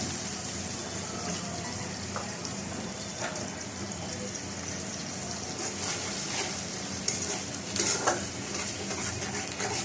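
Marinated chicken frying in a pan gives a constant soft sizzle. Stirring and a few clinks sit over it, with some watery hiss and faint background noise.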